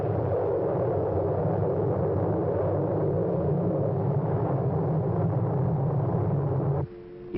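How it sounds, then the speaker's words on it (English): A tornado touching the ground, a continuous deep roaring rumble that stays steady and loud before dropping off near the end, with no voices. "Tornado about a mile east of the Winton pumping station. Moving fast your way, northeast."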